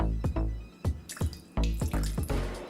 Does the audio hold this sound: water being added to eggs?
yes